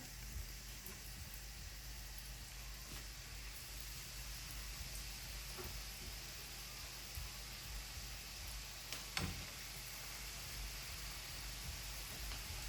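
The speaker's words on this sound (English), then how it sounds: "I'm going to just finish frying the rest of my breadfruit that I have here." A steady, hissing sizzle of breadfruit frying in hot oil continues throughout, with occasional faint pops and clicks and no speech.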